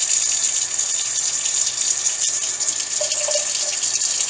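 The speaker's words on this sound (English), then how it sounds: "to wash your hands, you're gonna want warm water" A kitchen or bathroom tap runs warm water steadily for handwashing, a constant close hiss and splash into the sink with no talking.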